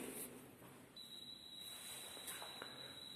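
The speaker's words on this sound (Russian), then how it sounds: "ну вот сигнализация сработала" A building fire alarm goes off while a back-yard exit door is tested, sounding as a faint, steady high-pitched electronic tone that starts after about a second and holds over low background hiss.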